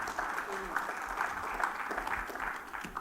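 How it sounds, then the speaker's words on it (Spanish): A church congregation claps for the Lord during a Spanish-language sermon, an uneven spatter of hand claps mixed with murmured voices and scattered exclamations, moderately loud and brief. "Dele palmas al Señor si lo cree"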